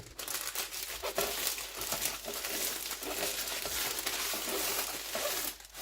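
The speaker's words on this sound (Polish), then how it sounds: "Owijamy w drugi papier, ewentualnie folię i odstawiamy do lodówki na minimum pół godziny." Paper or foil being wrapped around a spinach and smoked salmon roulade, a steady close crinkling and rustling with brief louder crumples, no talk.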